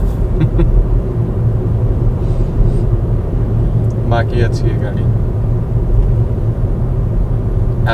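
A 2018 Ford EcoSport engine runs with a mild diesel-like clatter, heard as a continuous low interior drone beneath intermittent conversation.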